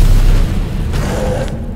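A single muffled boom from a weapon shot in Lords of the Fallen rings out over steady low rumble and background noise, with no voices.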